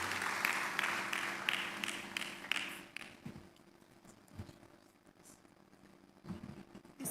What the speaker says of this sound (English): Can we give him a louder round of applause?